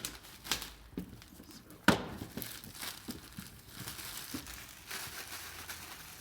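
Cardboard and plastic packaging of a Pico Neo 2 Eye VR headset box being opened, with soft crinkling and rustling throughout and one sharp tearing snap near the start, close up and fairly quiet.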